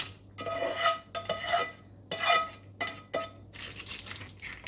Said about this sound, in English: it is time to add the clams